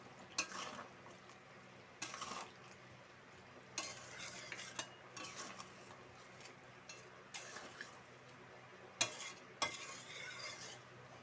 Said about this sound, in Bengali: আমি এখনও আমি পনেরো থেকে কুড়ি মিনিট একটু ভালো করে কষে নেব মশলাটা